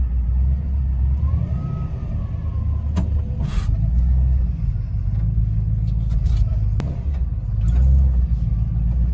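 Classic Chevy engine idling roughly and unevenly, a steady close low rumble with a few sharp clicks and knocks over it, no talking.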